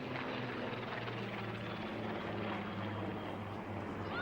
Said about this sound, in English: And here's the first lot of aircraft to break away.